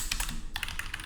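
Quick keystrokes on a computer keyboard while entering a school exam timetable, a short burst of close, uneven clicks with no voices.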